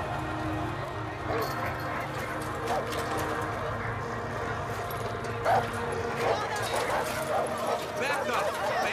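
Dogs bark in the video game Far Cry 5 amid rustling movement on a rural path. Voices talk over them throughout.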